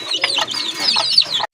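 Desi hens cluck and chatter close by at a poultry and pigeon market, a busy run of short calls that stops abruptly at the end.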